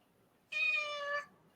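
A cat gives a single clear meow lasting under a second, close to the microphone and rising out of a quiet room.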